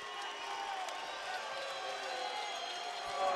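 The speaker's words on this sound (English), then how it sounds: "with a round of applause for both true warriors as we wait for the decision" Boxing arena crowd at a WBC lightweight title bout, Humberto Soto against Urbano Antillon, applauding both fighters while awaiting the decision: a steady, far-off wash of clapping and cheering that swells slightly at the end.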